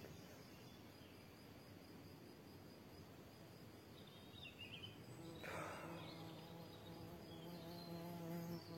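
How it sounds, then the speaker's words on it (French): A bee buzzes outdoors in a natural setting, a thin continuous drone that grows louder and nearer midway as insects hum softly in the background. "Vous avez le bonjour d'une abeille."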